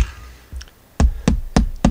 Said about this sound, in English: So I have an idea now how hard I have to knock.